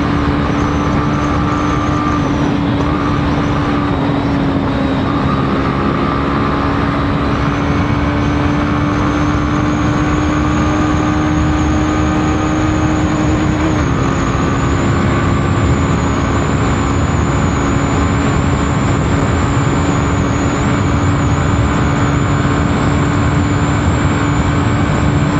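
Steady running drone of a Hero Glamour X 125 motorcycle engine while riding on a better road, a loud continuous hum with a fixed tone that shifts pitch slightly midway, alongside wind rush and no voices.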